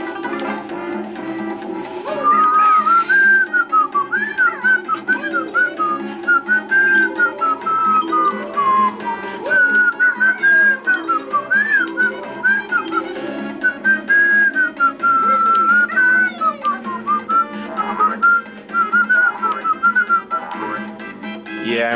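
A person whistles a wandering melody at a steady volume, the bright tone sliding and warbling between notes over a soft instrumental backdrop from the video game Banjo-Kazooie.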